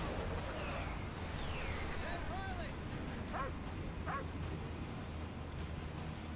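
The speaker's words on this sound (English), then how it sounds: "What's the dog doing? Give this dog a gun." A dog in the Call of Duty Ghosts campaign gives a few short barks and whimpering yips over steady game background noise while a person talks.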